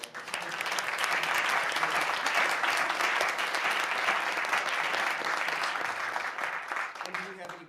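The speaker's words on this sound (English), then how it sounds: "Could we please give a round of applause?" Audience at a Grand Rapids Public Schools board of education meeting breaks into a round of applause, a full, dense wash of clapping that swells quickly and holds steadily loud before tapering near the end, with faint voices underneath.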